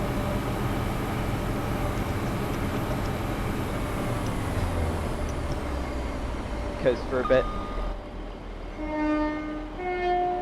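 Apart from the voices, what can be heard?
Class 170 Turbostar train running, from Train Sim World video game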